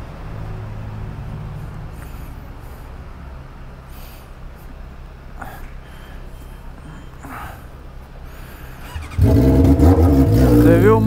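A vehicle passes close by while accelerating hard, and the engine roar swells sharply near the end after a quieter stretch of road ambience.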